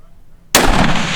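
A single loud, sharp bolt-action precision rifle shot fired during an NRL Hunter match stage, bursting suddenly after a brief quiet lead-in and ringing out close and full.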